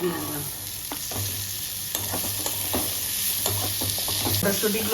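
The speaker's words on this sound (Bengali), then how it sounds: "দিয়ে ভেজে নিচ্ছি ভালো করে ভেজে নিচ্ছি" Food frying in a pan while being stirred, a continuous close sizzle broken by repeated spatula scrapes and knocks against the pan, with no talking.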